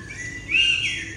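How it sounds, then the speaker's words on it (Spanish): A blackbird gives a single clear, high whistled call outdoors in a mountain landscape, rising then fading over about a second against a soft ambient hush. "Hasta luego, dice el mirlo."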